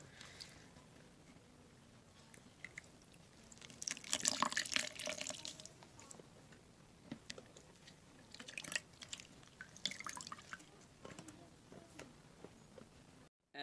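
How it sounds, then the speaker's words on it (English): Water draining from hand-washed headphone ear cushions, quiet trickles and drips with a couple of louder splashing bursts against a hushed background. "Now we can simply take it out and drain the water."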